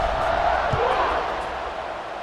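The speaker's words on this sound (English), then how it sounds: "You think this crowd's going to get loud when their defense comes on the field?" Crowd noise from a packed stadium in the video game College Football 26, a broad steady roar swelling slightly then easing, with a commentator's voice running over it.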